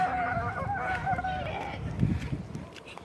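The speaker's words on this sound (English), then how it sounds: "The ducks were chasing Hannah" Ducks honk and quack while chasing a child outside a restaurant, a few raspy calls up close over a busy outdoor background with faint voices.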